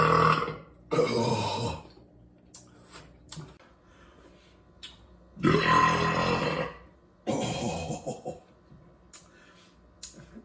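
Loud, throaty burps from a man reviewing beer, several separate belches in quick succession, each swelling and trailing off, close to the microphone, with a brief exclamation between them.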